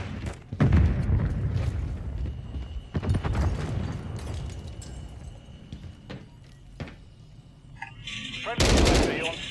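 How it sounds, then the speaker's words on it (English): Gunfire and a thrown grenade in Call of Duty Modern Warfare 3, scattered loud shots and bursts with a heavy blast near the end, with voices speaking over parts of it. "Grenade out."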